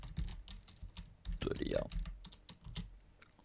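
Keys clatter on a computer keyboard while text is entered in After Effects, a quick uneven run of close taps with a short burst of speech partway through.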